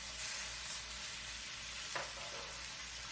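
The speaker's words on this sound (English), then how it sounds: "using your heat-safe tongs, place the beef brisket, whole or in pieces, in the pot." Beef brisket sears in an oiled pot with a steady, close sizzle and hiss throughout, joined briefly by a soft clatter near the end, with no voices.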